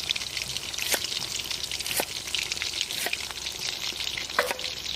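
Prawn koftas fry in hot oil with a steady, bright crackle and sizzle, punctuated by a few sharp spatter pops roughly once a second, close and fairly loud with no talking.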